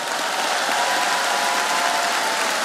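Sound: applause

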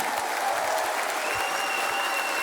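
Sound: applause

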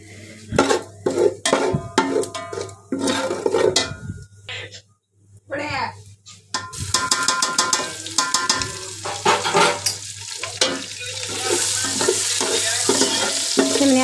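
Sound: cumin seeds frying in hot oil

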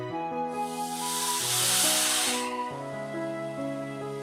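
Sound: water sprinkled onto roasting gram flour, hissing steam

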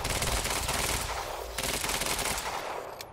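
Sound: gunfire in the video game Quantum Break

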